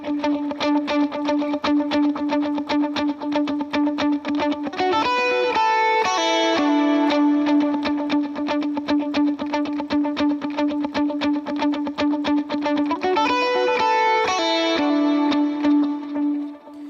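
Electric lead guitar run through effects plays a song verse: a rhythmic stream of picked, delayed notes over a sustained drone, with swelling chord accents twice, loud and alone.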